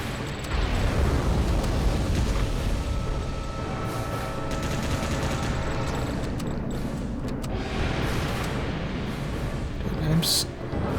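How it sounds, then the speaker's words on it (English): A monster breathing fire in an Earth Defense Force game on PS2, a loud continuous roaring, rushing blast that fills the whole stretch, with faint talk over it. "Oh, it's going to breathe fire."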